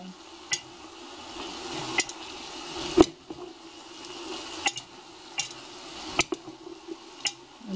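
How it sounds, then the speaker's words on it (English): Vegetables sautéing in a pot for Italian eggplant soup, a soft continuous sizzle broken by sharp clicks and scrapes of a utensil stirring against the pot at irregular intervals. "They're supposed to saute until they're soft."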